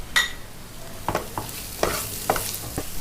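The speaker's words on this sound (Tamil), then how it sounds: "இப்போ எடுத்து வச்சுருக்க சிக்கன் பொடி அதோட போட்டு வதக்கிக்கலாம்." Capsicum sautéing in a pan with chicken masala powder and salt: a low sizzle punctuated by four or five distinct spatula knocks and scrapes, close by, with no speech.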